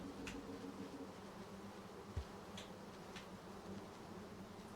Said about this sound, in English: let's see if the bees will still go after me while I'm invisible